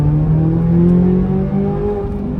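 Chevrolet Corvette C8 Z06 engine pulling hard under acceleration, heard close from the cabin, its tone rising smoothly and steadily over a couple of seconds with no talking.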